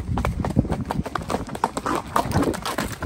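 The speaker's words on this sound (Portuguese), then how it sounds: "Pode parar a égua aí." A mare's hooves clip-clop on the ground during a group horseback ride, an irregular run of thudding steps close by, mixed with rustling and occasional voices.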